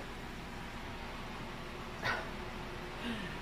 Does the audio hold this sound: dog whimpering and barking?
yes